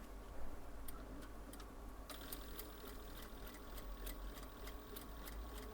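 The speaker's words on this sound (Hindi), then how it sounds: "इस तरह धीरे धीरे पूरी स्टिचिंग कर लेनी है।" A sewing machine runs a long straight stitch through fabric for a puff sleeve, a steady close mechanical hum with rapid regular ticking of the needle throughout.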